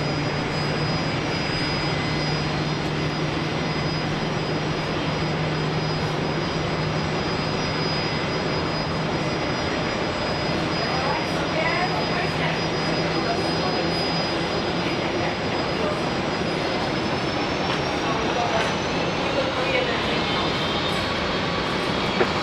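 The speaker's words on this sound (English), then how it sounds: "Actually, we'll get this takeoff here." A jet airliner takes off from Brisbane Airport, a steady broadband engine roar filling the scene at a constant loud level throughout, with a faint high whine drifting in pitch near the end.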